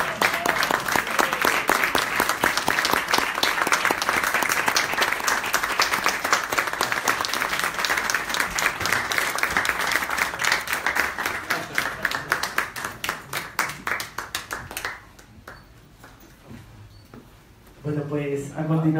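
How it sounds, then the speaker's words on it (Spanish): Loud, dense audience applause fills a crowning ceremony at the Miss Grand International Peru 2018 pageant, sustained for about fifteen seconds before dropping away, with a voice over a sound system resuming near the end. "Un fuerte aplauso, por favor."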